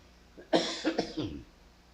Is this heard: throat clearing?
yes